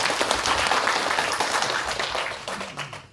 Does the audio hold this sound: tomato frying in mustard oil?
no